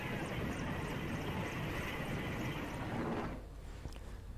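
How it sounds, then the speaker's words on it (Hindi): An Air Force rescue helicopter flying over a flooded river in Seoni with a loud, steady broadband roar of rotor and engine noise that drops off abruptly near the end, with no talking. "नागपुर से आए इस हेलीकॉप्टर ने पांचों लोगों को नदी के बीच से निकालकर सुरक्षित जगह पर पहुंचाया।"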